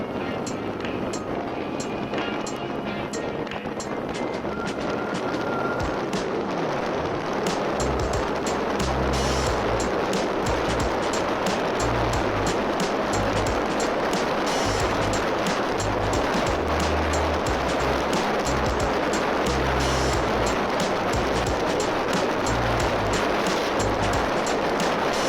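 A motorcycle fitted with a low-noise aftermarket exhaust is ridden at top speed. Its engine drones continuously under heavy wind rush that fills the whole stretch, with the engine note rising and falling as it pulls.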